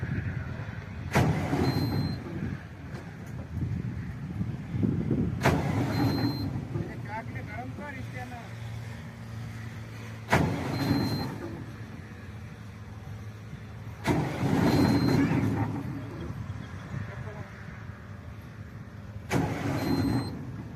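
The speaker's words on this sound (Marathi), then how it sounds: "प्रवीण भाऊ चालू करून पाहत आहे चालू नाही होत आहे" A combine harvester engine, flooded with water, is cranked repeatedly in several separate bursts of whirring starter grind, each dying away without catching, with quiet gaps and murmuring voices between attempts.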